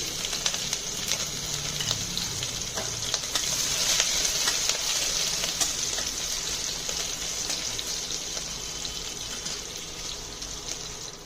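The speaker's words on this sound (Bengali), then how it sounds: "প্রথমে আমি এখানে রসুন কুচি, আদা কুচি আর লঙ্কা কুচিটা দিয়ে দিচ্ছি" Chopped garlic, ginger and chilli frying in hot oil in a pan, a continuous bright hiss and crackle of sizzling that swells and then settles, with faint stirring clinks.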